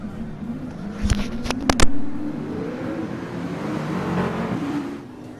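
Several race cars in a racing video game pull away together at the start of a race at Spa, a steady engine drone rising slightly with a few sharp clicks early on, moderately loud throughout.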